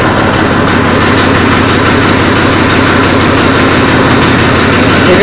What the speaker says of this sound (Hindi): ट्रैक्टर की आवाज़ कैसी लगी भाइयों,